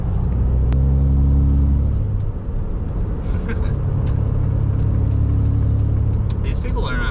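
A Jeep passes along a road with a 45 speed limit, a loud low engine rumble swelling then easing, followed by more passing traffic, with someone talking over it.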